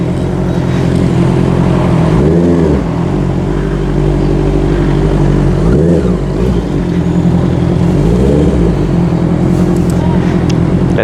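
A Honda CBR650R with its resonator cut out and a Bomba Racing twisted elbow carbon muffler idles loudly up close, its steady rumble broken by three quick throttle blips that rise and fall.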